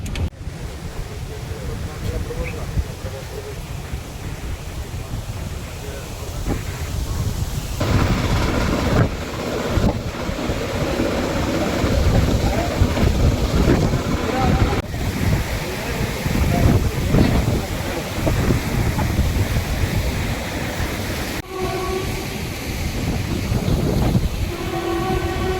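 Dhupadal waterfall on the Ghataprabha river near Gokak, swollen by heavy rain, gives a steady, loud broadband roar throughout, with voices talking over it during the later part.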